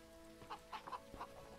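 A chicken in the video game The Witch of Fern Island clucks in a few short, soft bursts spaced across the moment, quiet against steady rainfall and light game ambience.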